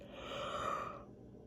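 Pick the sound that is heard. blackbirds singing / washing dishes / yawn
yawn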